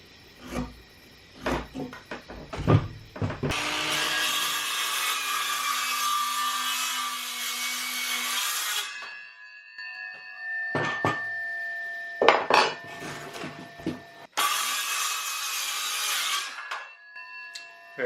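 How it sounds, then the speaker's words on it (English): A circular saw cuts lumber for an ATV cart in two loud, sustained bursts, with clattering handling knocks and taps of the wood between and before the cuts. "Now I'm going to be marking this on all sides so that I can use my circular saw here."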